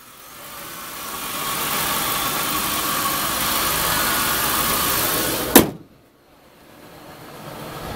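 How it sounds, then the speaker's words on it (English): A 2000 Ford Crown Victoria Police Interceptor engine runs at a steady, fairly loud idle, then a sharp click near the end cuts it off, leaving near silence before a faint hum returns. "This vehicle does start."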